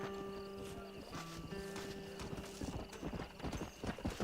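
Horse hooves clip-clop at a steady trot over a soft musical background in Red Dead Redemption, growing busier toward the end.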